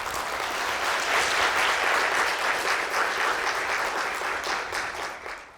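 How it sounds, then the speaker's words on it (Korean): A large audience applauding at an opening ceremony for a job development program showcase, dense sustained clapping at a steady level that fades slightly toward the end. "여러분 큰 박수 부탁드립니다"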